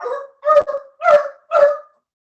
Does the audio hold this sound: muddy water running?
no